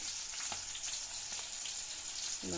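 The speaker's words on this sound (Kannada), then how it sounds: "ಸ್ವಲ್ಪ ಚಟ ಚಟ ಅನ್ನಕತ್ತಾವ, ಸಾಕು." Green chillies crackle and sizzle steadily in hot oil in a pan, with a dense continuous hiss and scattered small pops, fairly close and alone without voices.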